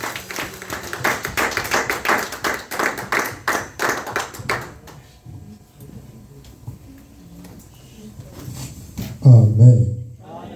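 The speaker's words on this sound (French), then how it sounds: "Accompagnons cela avec des acclamations." A church congregation claps in acclamation, a dense run of handclaps and cheering lasting several seconds, then fading to quieter room sounds before a brief loud voice near the end.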